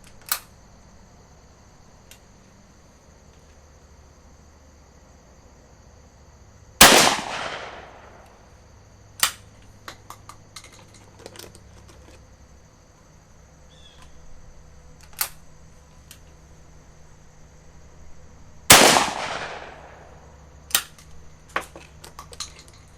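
A Stevens Model 301 .410 break-action single-shot shotgun fires Remington Express 3-inch No. 4 shells: two loud, sharp blasts about twelve seconds apart, with small mechanical clicks and handling clatter around them.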